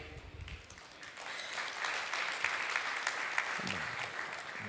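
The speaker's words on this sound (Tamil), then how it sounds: "கைத்தட்டு 2வது முறை தான் வந்தது" An audience at a Tamil Christian sermon breaks into applause, a broad wash of many hands clapping that builds and holds steadily, somewhat distant and moderately loud.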